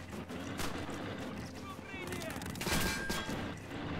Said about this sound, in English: Come on, man, we're shooting at him.